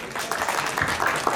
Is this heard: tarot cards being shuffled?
no